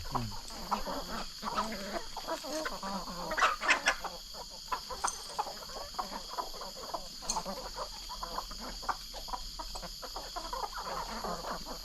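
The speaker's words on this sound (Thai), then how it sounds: "ไก่สามสายพันธุ์ด้วย" Chickens of three breeds cluck and chatter continuously at a moderate distance, with a steady high hum of insects or machinery behind them.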